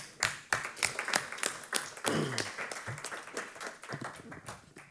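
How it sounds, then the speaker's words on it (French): Applause from a small audience at a drug-analysis workshop session, with distinct individual claps audible within a moderate, uneven patter that rises and falls over several seconds. "On peut l'applaudir"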